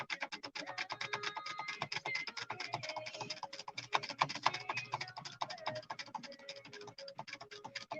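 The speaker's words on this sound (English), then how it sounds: "Just banging the space bar, you know," Computer keyboard keys, mostly the space bar, hammered rapidly and continuously in a quick clattering rhythm, close and fairly loud throughout.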